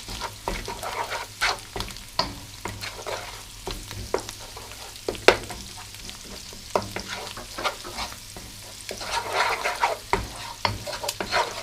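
Egg fried rice with salt stirred and frying in a pan, a steady sizzle broken by repeated sharp scrapes and clatters of the utensil, close and clear with no talk.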